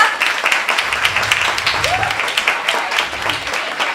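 Audience applause at a gathering in Miami, a dense burst of many hands clapping continuously, loud and close, with a voice briefly rising over it.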